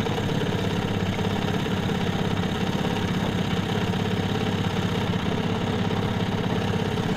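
A boat engine runs at a steady idle with a dense, even mechanical drone and vibration. It sounds loud and close, with no voices over it.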